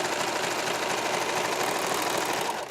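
A sewing machine stitches the side seam of a tank top, a steady, close mechanical whir running without pause for nearly three seconds before easing off at the very end.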